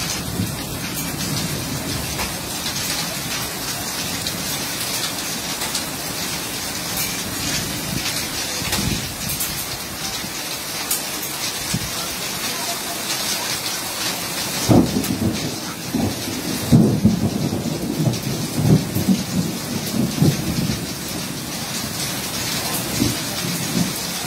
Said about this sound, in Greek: ξεκίνησε να πέφτει χαλάζι